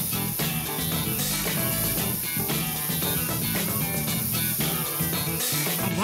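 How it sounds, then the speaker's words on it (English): A can of spray paint hisses as color is sprayed onto a rug, a loud, steady continuous spray with brief pauses, close up, with no voices. "And now it's time to bring in the spray paint!"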